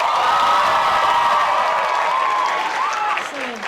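An audience at an improv comedy show claps and cheers to vote, producing a dense, loud wave of applause with whoops that holds steady and then thins out near the end.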